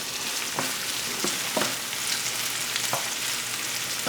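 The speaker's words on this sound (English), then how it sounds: "I'm just stirring up this basil, but it started to smell good." Basil frying in a stir-fry pan, a dense continuous sizzle with a few soft stirring knocks scattered through, close and steady, no talking.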